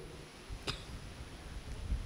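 A single short cough bursts out once during a Sunday Mass, amid quiet room noise, brief and fairly close.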